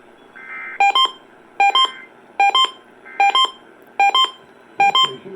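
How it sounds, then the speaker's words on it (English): Emergency Alert System test tones on KDKA radio: six identical short bursts of shrill two-tone digital beeps repeat at an even rhythm, clear and prominent, over a faint background hum. "This concludes this EAS test"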